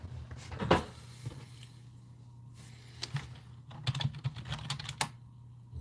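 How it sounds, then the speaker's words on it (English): Typing on a big old computer keyboard, its keys loud and clicky, in irregular bursts of close keystrokes over a steady low background hum. "I enjoy this big old keyboard."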